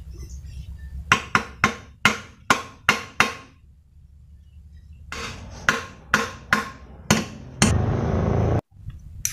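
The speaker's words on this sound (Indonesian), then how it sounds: "ini harus dihantam rupanya" A hammer strikes a part on a Fuso truck differential during dismantling: a quick run of about eight loud, ringing metallic blows, a short pause, then another run of six or so, ending in a brief rough scraping noise.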